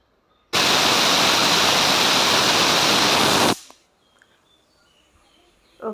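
A pressure cooker cooking soya chunk and potato curry lets out one loud, steady hissing whistle of steam lasting about three seconds, which cuts off abruptly and leaves a quiet kitchen.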